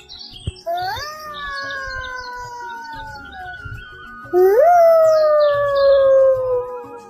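A cartoon character's voice imitates a jackal howling: two loud, long, wavering howls, the second louder and rising sharply before sliding down, with faint bird chirps behind.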